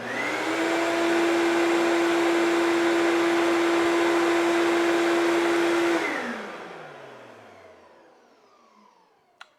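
A Ridgid 14-gallon, 6-horsepower shop vac runs with a loud, steady whine and roar, then switches off and winds down to near silence, with a small click at the very end.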